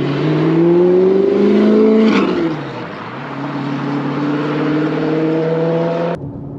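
A sports car engine, either an Aston Martin DB9 V12 or an Audi R8 V8, revs loudly in a steady rising tone, dips briefly, then holds a strong drone before cutting off abruptly near the end.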